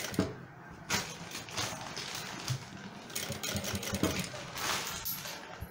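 A sewing machine stitches a shirt collar with an uneven, rapid mechanical whirr and chatter that rises and falls in bursts. Some faint speech may sit under it.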